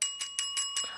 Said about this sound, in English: take this here bell from their kitchen playset and go